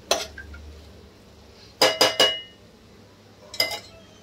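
A spoon scrapes and clinks against a pan while potato and pea bhaji is mixed, a few sharp metallic knocks in quick clusters with quiet pauses between, close and clear.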